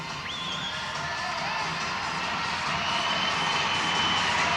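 A big crowd at a gymnastics and swimming arena roars and cheers with a steady, dense wash of voices and whistles that builds slightly over the seconds, with no talk over it.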